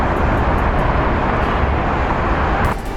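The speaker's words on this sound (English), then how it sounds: "with all the noises of cars" City street traffic beside Millennium Park in Chicago makes a loud, continuous wash of passing cars and road roar, dense and unbroken, easing slightly near the end.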